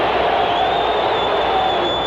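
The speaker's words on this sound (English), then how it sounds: "the crowd is furious" A large stadium crowd at an NFL playoff game in 1991 roars steadily and angrily, a dense, continuous wall of noise at a distance.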